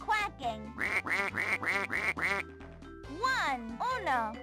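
A run of cartoon duck quacks in a children's counting scene, several evenly spaced quacks in quick succession followed by a pause and a couple more, set against light musical backing.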